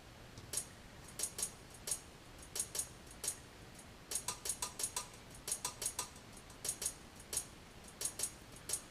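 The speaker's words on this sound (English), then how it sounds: "Then I added some hi-hats" Hi-hats programmed into a beat loop in Ableton, unquantized for a loose feel: sharp, bright ticks in an uneven, loosely steady pattern, clustered in quick bursts with short gaps, fairly faint and alone.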